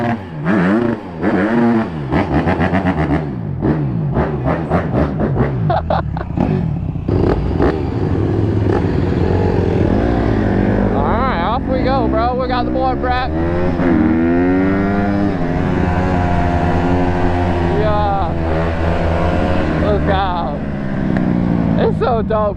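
A Dodge Hellcat's engine revs repeatedly with rising and falling roars, close and loud, while voices talk over it throughout.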